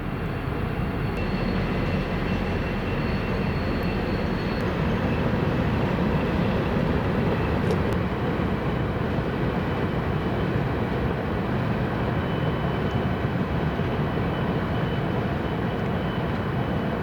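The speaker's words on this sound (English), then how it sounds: "And here comes train number 2." A steady, continuous rumble of a short train not carrying coal passing an overlook in Pennsylvania, broad and even throughout, with a faint high squeal appearing partway through.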